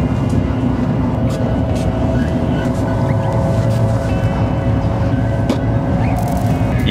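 Steady rumble inside a high-speed rail train in motion, a dense continuous low drone with faint rattles and occasional clicks, loud and unbroken throughout with no talking.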